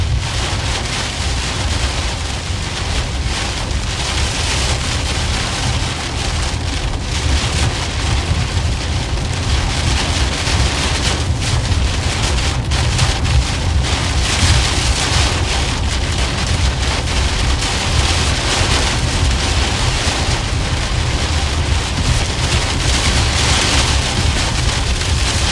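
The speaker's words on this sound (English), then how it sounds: "Now we're getting into the heavier part of the storm here." Heavy rain pours steadily during a Minnesota thunderstorm with strong winds, a loud, dense, unbroken roar lasting throughout with no clear thunder claps.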